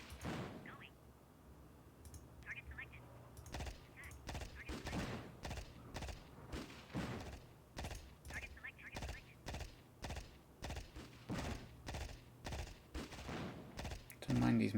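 Machine gun fire from an Amiga video game crackles in rapid bursts of sharp repeated reports, mixed with other game effects, fairly quiet and continuous throughout.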